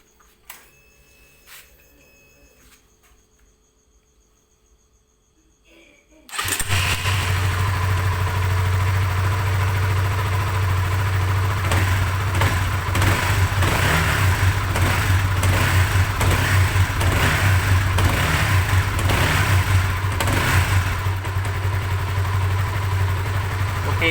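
A Honda CBR150i motorcycle engine fires up after a few seconds of quiet and settles into a loud, steady running drone, with repeated revs swelling over the idle.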